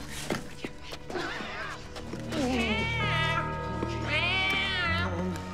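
Kittens meowing at close range, several high, drawn-out mewls rising and falling over about five seconds, with faint bumps and rustling underneath.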